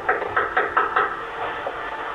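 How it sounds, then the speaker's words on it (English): A stranger knocks on a house door in Los Angeles, five quick firm raps in an even rhythm heard on security camera audio, fairly loud and close, followed by quieter muffled sounds. "He knocks on the door."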